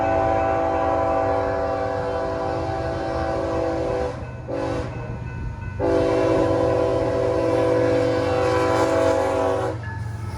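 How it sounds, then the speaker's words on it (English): A BNSF intermodal freight train from Birmingham rolls past at dusk in the Arkansas Delta, a loud, steady rumble with sustained metallic whine that briefly dips midway before surging again. "a BNSF intermodal train from Birmingham has a really nice last shot from 3 different railroads"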